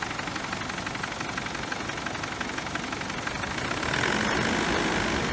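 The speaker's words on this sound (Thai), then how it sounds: "นี่เป็นการเร่งเครื่องในขณะที่เราไม่ได้ขับขี่" A parked car engine running steadily with a breathing fault at the oil trap, the revs climbing to a louder, higher pitch near the end.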